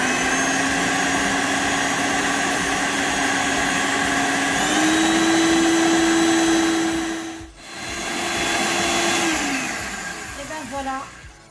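An electric mixer whips egg yolks for a mocha butter-cream cake, its motor whining loudly and close with a steady tone that shifts pitch midway, briefly dips, then winds down as the beaters are lifted.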